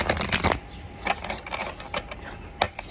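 Playing cards shuffled by hand, a rapid riffling burst at the start followed by several shorter crisp riffles and snaps, close and fairly quiet with no talking.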